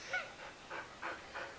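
A dog pants softly nearby in five quick rhythmic breaths, faint and close with no talking.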